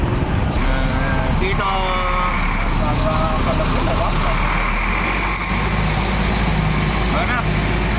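Heavy road traffic rumbles close by, with idling car and truck engines forming a constant low drone while someone talks over it.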